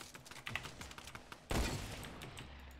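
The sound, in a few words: gunshot in video game Fortnite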